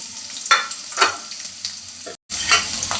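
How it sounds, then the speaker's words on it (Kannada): Carrots, beans and green chillies frying in oil in a pan give a steady broadband sizzle, stirred in a few scraping bursts, with one brief dropout partway through. "ಕ್ಯಾರೆಟ್ ಹಾಕ್ತಾಯಿದ್ದೀನಿ ಕ್ಯಾರೆಟ್ ಮತ್ತು ಬೀನ್ಸು ಮತ್ತು ಹಸಿಮೆಣಸಿನ್ಕಾಯಿ ಕಟ್ ಮಾಡಿ ಇಟ್ಕೊಂಡಿರೋದು"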